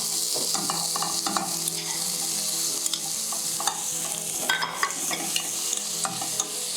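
Tomatoes and garlic sizzling in a hot pan, a continuous bright frying hiss broken by frequent stirring scrapes and light clicks of the utensil, no voices.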